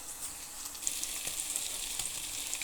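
Ground spice paste frying in a pan with fried ingredients, a steady soft sizzle with occasional louder crackles and stirring, close and moderate in level, no talking.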